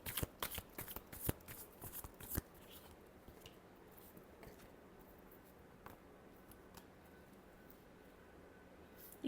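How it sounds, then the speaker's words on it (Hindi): Tarot cards shuffled by hand, with quick crisp riffling flutters and slaps close up at the start, then trailing off into quiet handling rustles and sparse faint taps. "Last shuffle."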